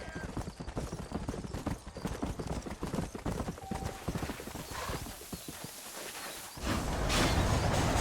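Horse hooves clip-clop steadily in a Western setting in Red Dead Redemption, a fast repeated rhythm of hoofbeats close by, with a few lines of talk and a whinny, giving way near the end to louder rushing ambience.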